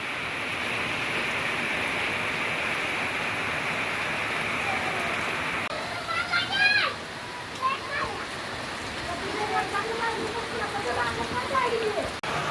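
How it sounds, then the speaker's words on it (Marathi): Heavy rain pours down steadily, a dense hiss close by with water also coming indoors, while other sounds break in over the second half. "जबरदस्त पाऊस आहे मित्रांनो, बघू शकता तुम्ही."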